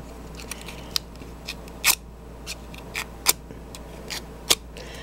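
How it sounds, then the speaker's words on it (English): Sharp scraping snips repeat at irregular intervals over a quiet background, each brief and crisp, close by: scissors pulled firmly along a cardstock flower petal to curl it. "just take it like you're curling ribbon with scissors"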